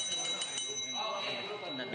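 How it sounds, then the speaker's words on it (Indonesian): A small bell at an informal amateur boxing match gives a sustained bright ring that carries on behind loud, nearby talking. "Ada bel gitu, ting. Ini ada bel katanya."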